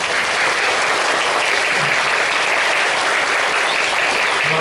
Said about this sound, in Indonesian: Tepuk tangan untuk TK ya.